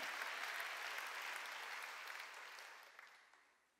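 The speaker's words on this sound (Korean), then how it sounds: "박수치라 얘기야" A church congregation claps together in sustained, dense applause that fills the room, then gradually fades out toward the end.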